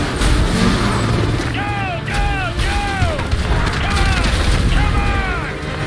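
A loud explosion in the video game Call of Duty Modern Warfare 2 Remastered, a continuous heavy rumble with whistling tones and someone talking over it.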